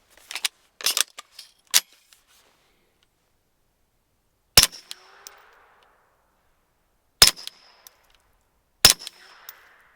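Gunfire from a Flux Defense Raider pistol: sharp, loud reports come singly and in quick pairs with gaps between them, each followed by a short metallic ring and a soft rattling tail, with no talking.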